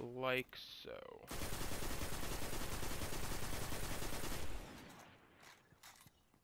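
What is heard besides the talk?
gun firing in video game Destiny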